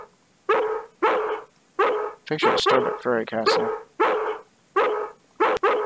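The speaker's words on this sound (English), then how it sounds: "Shut that dog up." A dog in the horror game Harvester barks repeatedly in steady, evenly spaced loud yaps, with a voice speaking over the middle of the barking.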